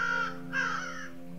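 A crow caws twice in the video game Apocalipsis, two harsh, drawn-out calls in quick succession over a steady, droning game soundtrack, clear and close with no talking.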